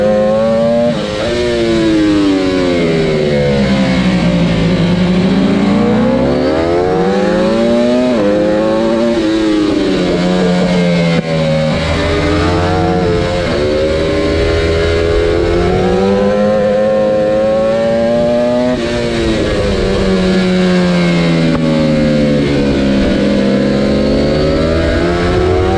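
A racing motorcycle engine screams loudly and continuously, its pitch rising and falling through gear changes and throttle bursts.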